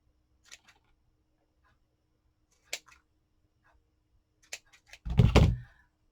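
Scissors cut ribbon off a shoestring bow on a crafted gnome, rose and lemon scrubbie box in a few sharp, isolated snips in a quiet room, followed by a louder thump of handling.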